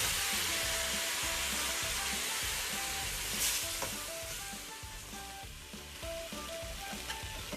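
King crab frying in a pan with turmeric and salt, giving a continuous crackling sizzle with scattered pops and stirring scrapes, close and moderately loud.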